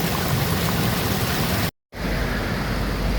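Spring water gushing out of rocks by a roadside stop on the route from Memaliaj to Dragot: a steady, dense rushing flow heard close up, briefly cut to silence for a moment before resuming.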